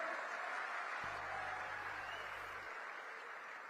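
Crowd at a Viksit Bharat Viksit Chhattisgarh political rally applauding loudly, a dense steady wash of clapping from many hands that carries on without a break, with a low hum under part of it.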